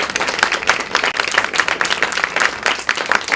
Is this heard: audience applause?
yes